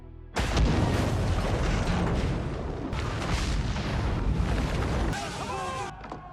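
An explosion in an action film sets off a loud, sustained roaring blast that rumbles for several seconds before fading into lighter crackling debris.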